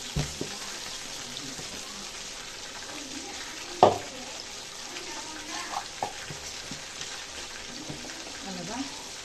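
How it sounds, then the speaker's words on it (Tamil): Ground paste with water and salt sautés in a pan until dry, giving a steady, even sizzle throughout, with a brief clank near the middle and a few soft stirring knocks. "இதை நல்லா வதங்கட்டும் நல்லா ஃபுல்லாகவே அப்படியே வத்தணும்"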